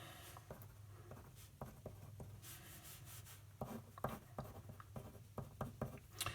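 Pen or pencil writing down trig notes, close and quiet, with short scratchy strokes and taps coming in uneven bursts, some soft rubbing between them and no talking.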